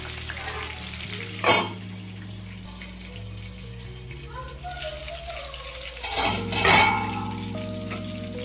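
Stuffed eggplants fry in oil in a pan with a soft, steady sizzle, broken by a few louder bursts of stirring or turning, and a voice talks over it.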